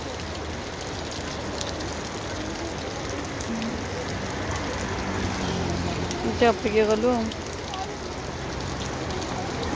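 Heavy rain pours down in Bhubaneswar as a steady, dense hiss that fills the whole stretch, with a voice speaking briefly over it near the middle.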